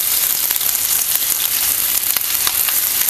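Potato and gram flour snack pieces frying in hot oil, a loud, close, dense sizzle with crackles that stays constant, nobody speaking.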